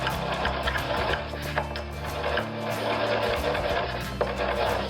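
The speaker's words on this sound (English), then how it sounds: "a mortar and pestle, so that I can go ahead and grind it down to a finer consistency" Salt being ground in a mortar with a pestle gives a steady, close, rhythmic grinding and scraping that continues throughout with little pause.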